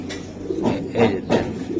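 Racing pigeons coo in a few soft, low pulses close by, amid faint background murmur.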